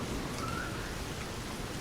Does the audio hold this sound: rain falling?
yes